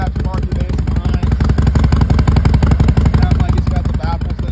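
A 2010 Harley-Davidson Sportster 1200C idles in neutral through an aftermarket exhaust. It gives a close, steady, loping V-twin throb with a rhythmic low pulse, and someone talks over it.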